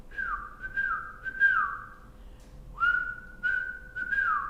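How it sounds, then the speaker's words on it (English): A person whistles during a kundalini yoga breathing exercise, with several clear sliding tones held in sustained phrases and short pauses for breath between them, close and fairly soft, with no talking. "And whistle."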